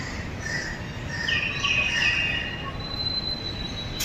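Ahmedabad metro train pulling into a station, its wheels squealing in thin high tones over a steady low rumble, with faint birdsong nearby.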